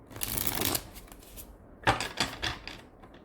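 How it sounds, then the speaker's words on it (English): Tarot cards being shuffled by hand, a dense riffling burst followed after a pause by several short separate card flicks and taps, close and fairly quiet with no talking. "I'm just going to shuffle the cards real quick."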